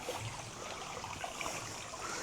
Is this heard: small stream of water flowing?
yes